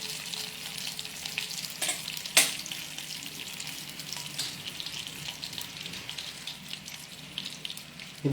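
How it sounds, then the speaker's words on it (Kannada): Half a teaspoon of cumin seeds sizzles steadily in hot ghee, a close, continuous frying hiss with a few clinks and stirring scrapes from a pan, no talking. "ಘೀ ಹೀಟ್ ಆಗಿದೆ. ಇದಕ್ಕೆ ಹಾಫ್ ಟೀ ಸ್ಪೂನ್ ಅಷ್ಟು ಜೀರಾ ಆ್ಯಡ್ ಮಾಡ್ತಾ ಇದ್ದೀನಿ."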